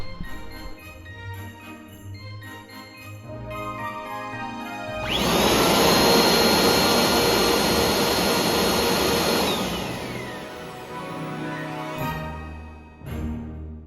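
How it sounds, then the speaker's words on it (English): A Bissell PowerForce Compact vacuum cleaner roars to life, holding a loud steady whine for several seconds, then winds down to a quieter hum; no one speaks. "One of the things that I always like to do when I review a vacuum is to test the loudness"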